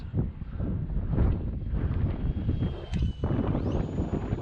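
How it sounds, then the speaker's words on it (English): Steady gusty wind buffeting the microphone, a dense low rumble that swells and dips throughout, with no voices. "Yeah, it is windy."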